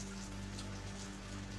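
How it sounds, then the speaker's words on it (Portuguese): Steady rain falls on surfaces as it builds toward a storm, a dense continuous hiss with no voices, at low level throughout. "a chuva aumentava e ia se transformando numa"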